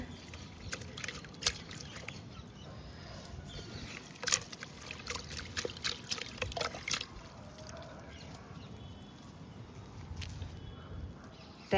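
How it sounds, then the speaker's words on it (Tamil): Roots of a newly bought chrysanthemum plant being swished and rinsed in water, with soft trickling, sloshing and occasional splashes close by, quiet overall with a few sharper clicks. "இது எல்லாத்தையும் தண்ணியில் போட்டு அலசி போகிறேங்க"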